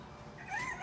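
A three-legged cat named Moo gives a short, close meow that swells toward the end of the moment, heard alone without talk.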